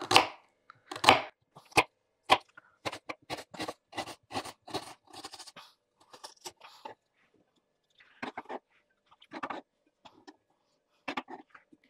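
Onions being chopped on a cutting board with a knife, a series of sharp, quick knocks in uneven bursts and pauses, close and fairly quiet, no talking.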